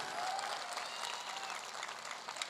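Sustained applause from a seated audience at a large business success-event gathering, dense and steady clapping filling the whole stretch at moderate loudness with no talk over it.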